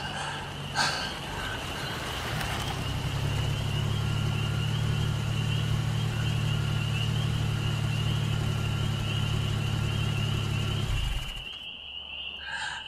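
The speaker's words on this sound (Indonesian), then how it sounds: "mobil itu pun berhenti." A car pulls up and settles into a steady, loud rumbling idle for about ten seconds before the engine cuts off, staged as a radio drama sound effect.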